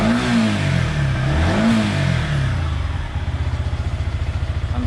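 A Yamaha MT-15 motorcycle engine revs up and falls back twice, close and loud, then settles into a rapid, rhythmic idle.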